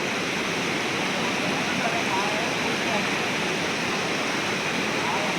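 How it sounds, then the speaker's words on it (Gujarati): The Raval river, in full flood after rain, rushes in a loud, constant roar of churning water that fills every moment without a break. "રાવલ નદીમાં ફૂલ પાણી છે"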